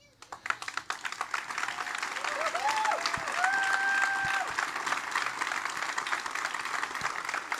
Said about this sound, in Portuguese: Foi esta a parte dos aplausos